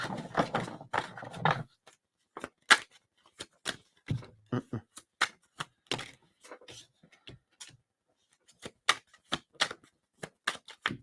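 Tarot cards riffled and shuffled by hand, with bursts of quick papery flutters and snaps followed by scattered single sharp slaps and taps, close and fairly loud, no speech.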